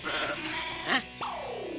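A man imitates a goat with a wavering, nasal bleat that rises and falls, then trails off into a long descending tone, heard alone and close with no other talk.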